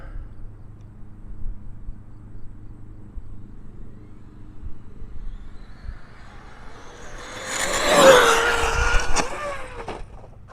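An Arrma Limitless RC car makes a fast speed pass, its high electric whine building from a faint distance to a loud, close peak and then dropping away as it passes, with a low outdoor rumble underneath.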